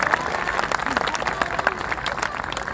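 An audience at a Hindi poetry recital applauds, a moderately loud, continuous patter of many hands clapping at once, with a faint voice mixed underneath.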